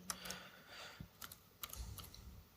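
Typing on a computer keyboard during a PowerShell demo, a few faint scattered key clicks in quick irregular taps, soft and distant-sounding with no talk over them.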